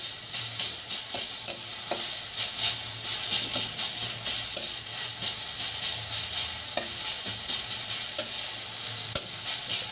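Garlic paste fries with black cumin in a pan, giving a loud, continuous hissing sizzle with steady stirring scrapes and a sharp knock near the end, and no voices.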